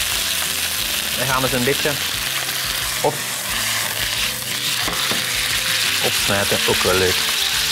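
Chicken fries in a pan for spring rolls, a constant loud sizzle with intermittent scraping as it is stirred, while someone talks over it.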